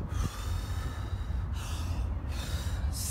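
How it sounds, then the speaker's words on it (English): Two deep, forceful breaths taken between Five Tibetan Rites exercises, loud and close, each a long airy rush with a brief gap between, heard without speech. "I take two breaths"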